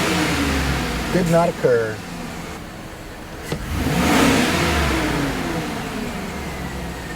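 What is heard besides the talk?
car engine revving at wide open throttle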